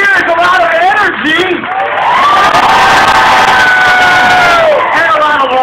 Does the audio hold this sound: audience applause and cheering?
yes